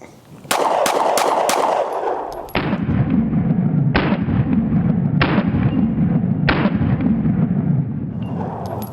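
A Sig P365XL Spectre Comp pistol fires 124 grain rounds, with four quick, loud, close cracks at the start, followed by a series of heavier booming reports over sustained background noise.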